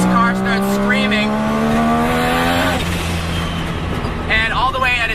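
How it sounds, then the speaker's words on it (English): A Mazda RX-7 with a three-rotor rotary engine revs hard, its pitch climbing steadily into a high-pitched scream toward its 8,000 RPM redline before dropping off, with a voice talking over it. "at higher RPMs, this car starts screaming"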